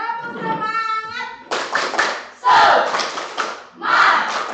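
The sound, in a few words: class doing the "tepuk semangat" clapping chant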